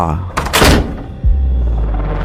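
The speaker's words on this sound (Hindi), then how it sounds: "तो कमरे का दरवाज़ा बंद हो गया" A room door slams shut with a heavy, deep thunk and a lingering low rumble, following a loud whoosh of movement in a horror story narration.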